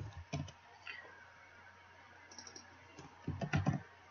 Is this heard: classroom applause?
no